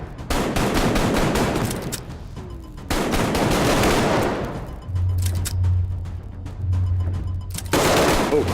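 Loud, close automatic gunfire from the Arktika.1 VR shooter, long sustained bursts separated by brief pauses, with a low rumbling tone underneath and no talking.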